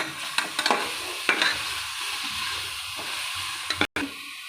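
Green chillies sizzle steadily in hot oil in a pan while being stirred for egg biryani, with occasional scraping clicks of the spoon over the constant frying hiss.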